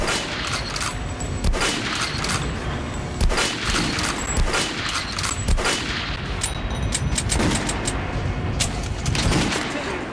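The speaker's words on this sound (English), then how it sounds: "Now shoot the opposite dummy." Gunshots fired at a training dummy in Metro Last Light Redux: a rapid, irregular string of loud close shots and automatic bursts with metallic clinks between them, continuing steadily with no talking.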